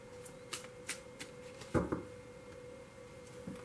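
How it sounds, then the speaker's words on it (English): Tarot cards are shuffled by hand in a quiet room: a few soft riffling flicks, then a brief louder burst of cards sliding together, faint and close, with no talk. "So I'm only going to shuffle for a moment because I did pre-shuffle."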